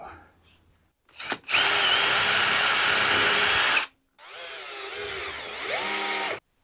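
A power drill whines loudly in two bursts separated by a brief pause, its motor pitch shifting as it bites into the wood of a Fender Stratocaster guitar body, close up.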